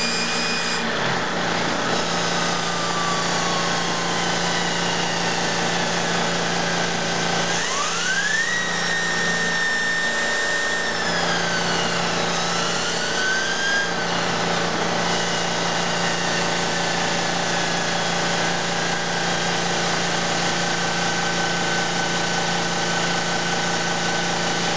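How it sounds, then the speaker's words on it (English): A compressor-driven model turbine runs steadily and loudly throughout, a continuous whine with rising and falling pitch sweeps as the speed shifts, over a constant low hum. "going to hear a lot of noise now because the compressor is going to be switched on"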